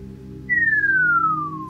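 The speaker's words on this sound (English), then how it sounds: "That little whistling sound is gonna drive me crazy" A thin electronic whistle in the game Dungeon of Elements sweeps steadily downward in pitch and holds for over a second, sounding clearly above a low, steady background hum.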